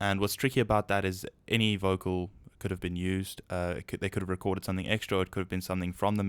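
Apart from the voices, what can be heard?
No distinct noise like a dog, phone or traffic.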